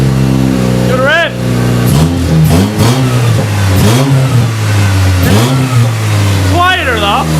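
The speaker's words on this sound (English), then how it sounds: "Do the rev." A car engine fitted with a cold air intake revs hard several times, each loud, close surge rising and falling over a steady idle, while people talk over it.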